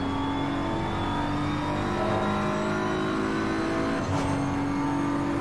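Aston Martin and BMW GT race cars from Assetto Corsa Competizione at Spa roar at high revs in a steady, loud engine drone, with one upshift and a brief dip in pitch near the end.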